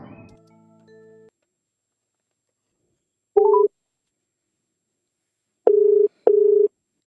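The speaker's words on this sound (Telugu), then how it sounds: "మనం ఫస్ట్ విజయనగరంలో ఉంటున్న 11 ఏళ్ల పి సాయి ఆదిత్య రామకృష్ణకు ఫోన్ చేసి తను ఏ పద్యం చెప్తాడో చూద్దాం." A telephone call is being placed: a short electronic chime opens, then after a pause come three clean single-tone dial beeps, one alone and two in quick succession, loud and close in otherwise silent air.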